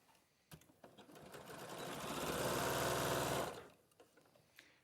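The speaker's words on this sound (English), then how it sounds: "you're just going to sew along that edge" A sewing machine stitches tweed and fleece pieces together in one sustained close run of rapid, whirring stitching that rises, holds and then stops, framed by a few faint clicks and handling sounds.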